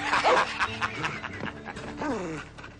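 A mangy dog in a Western frontier setting gives excited yips, whimpers and pants, close and fairly loud, in short uneven bursts.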